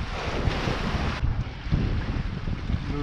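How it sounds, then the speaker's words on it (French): Wind buffets a sailboat out at sea with a steady, rough whoosh against the microphone over a low wash of water, easing slightly partway through, with no voices. "Le vent se calme"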